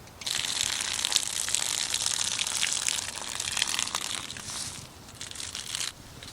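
Fish being rinsed clean under a running tap, with a steady close hiss of gushing water mixed with wet rubbing and splashing as the fish is handled, easing off near the end.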